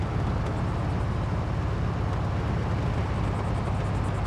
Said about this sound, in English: Inside our GTX convertible. Real nice ride to it.